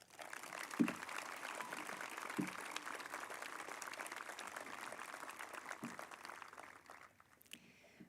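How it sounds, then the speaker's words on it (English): Audience applause at a high school graduation commencement ceremony, a steady, fairly faint wash of clapping from a large crowd lasting several seconds, with a few louder thumps and bumps and fading near the end. "Give them a round of applause."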